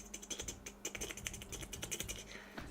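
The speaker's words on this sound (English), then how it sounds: "You're going to get me one of those creamy keyboards, Ace." Typing on a soft, creamy-sounding computer keyboard, a dense run of quick muffled key clacks heard close and fairly quiet, with steady background hum and no talk.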